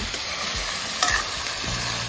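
Marinated duck meat browning in oil in a pan while being stirred, giving a dense, continuous close-up sizzle with a few soft scraping strokes and no voices.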